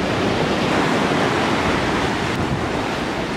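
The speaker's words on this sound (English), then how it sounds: "The waves are good, huh?" Ocean waves breaking at a beach, a loud, continuous wash of surf with wind buffeting the microphone throughout.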